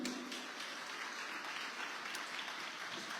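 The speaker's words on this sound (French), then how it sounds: "Les applaudissements sont quand même très faibles, hein." Sparse, faint applause from a small audience in a hall at a laureates' ceremony in Petit-Canal, a thin steady patter of clapping with no one speaking.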